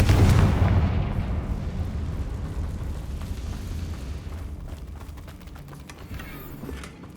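A Confringo fire spell explodes in the game Hogwarts Legacy, a loud burst that rolls into a long fading rumble with scattered crackles over several seconds.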